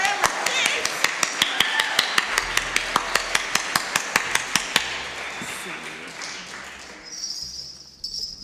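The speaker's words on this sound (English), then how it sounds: "clap your hands" At a church service, a congregation claps in a steady, evenly spaced rhythm of sharp, close hand claps that stops partway through, leaving a murmur of voices and room noise.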